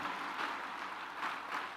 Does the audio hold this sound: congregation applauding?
yes